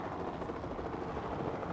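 A helicopter in the dinosaur park game Jurassic World Evolution 2, a steady rotor and engine drone with a faint pulsing throb, continuous and moderately loud with no talk.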